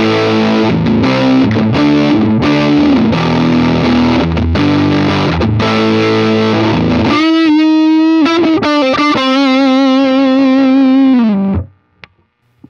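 Epiphone Les Paul Muse electric guitar played through its neck pickup with overdrive, loud and sustained: strummed distorted chords, then a long ringing held chord that cuts off abruptly near the end.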